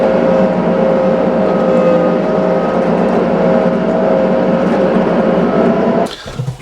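A tractor engine runs close and loud with a steady, even droning hum, then cuts out abruptly near the end with a short clunk.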